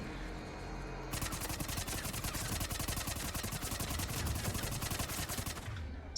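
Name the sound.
SMG gunfire in the video game Mass Effect 3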